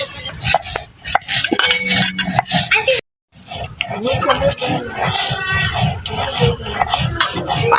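Garlic being ground on a shil grinding stone, a steady scraping and rubbing that runs throughout with one brief pause, while people talk nearby.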